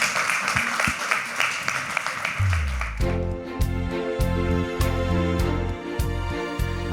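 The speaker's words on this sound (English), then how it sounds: "one more big round of applause for him" A live audience at a junior entrepreneur pitch competition applauds a young contestant with dense, steady clapping for about three seconds before loud rhythmic music cuts in and takes over.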